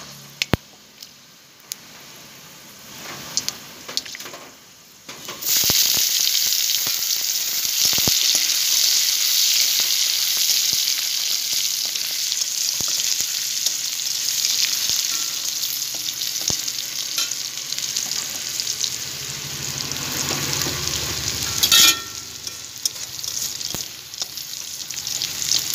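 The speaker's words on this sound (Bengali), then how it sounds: "এবার রসুনটা দিয়ে দেবো।" Garlic added to hot oil with panch phoron for kachu shak, a quiet opening and then a sudden loud sizzle that holds steady, with occasional clinks and stirring scrapes.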